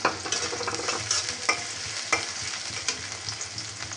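Sliced onions fry in hot oil, a continuous sizzle punctuated by spoon scrapes and stirring knocks against the pan, close and fairly quiet.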